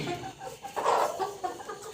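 A fighting rooster brought from Assam gives short, throaty clucks up close, rising into a louder burst midway and settling again.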